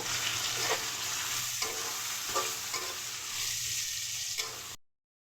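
Prawns fry in a pan for chowmein, giving a steady close sizzle with periodic stirring scrapes, then it cuts off abruptly near the end.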